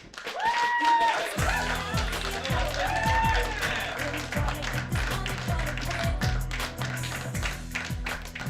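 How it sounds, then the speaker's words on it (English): An audience claps and cheers for comedian Tyler the Comic at a stand-up comedy competition night, with a burst of whoops first and then steady applause over a thumping music beat. "Y'all clap it up for Mr."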